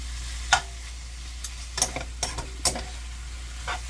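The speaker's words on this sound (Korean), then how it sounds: "타지 않게 이거를 좁싸게 이렇게 계속 볶아갑니다" Ground beef is stir-fried in a pan with a soft background sizzle, punctuated by several distinct spatula scrapes and clicks at irregular intervals, close but fairly quiet and without speech.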